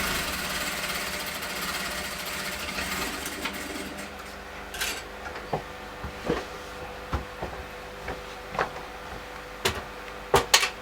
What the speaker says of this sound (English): I'm going to go to the machine and I'm just going to give this a stitch